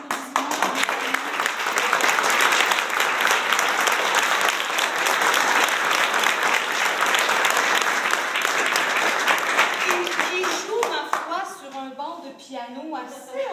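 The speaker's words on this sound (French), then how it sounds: "on donne une bonne main d'applaudissements." An audience bursts into sustained, dense applause that fills most of the moment before thinning out, as a voice starts talking near the end.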